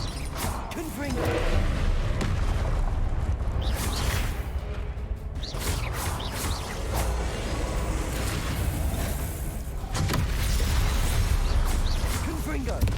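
Confringo blasting spell going off repeatedly in Hogwarts Legacy: whooshing fiery bursts and crashing blasts layered over constant loud combat noise, with a voice speaking at times.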